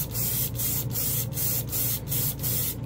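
Airbrush spraying Vallejo Game Air paint, a loud continuous hiss broken by brief regular gaps as the trigger is released and pressed again, close up with no talk.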